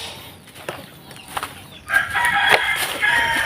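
Black Australorp chickens cluck quietly at first, then a loud, close crowing bursts in partway through and continues over lively clucking.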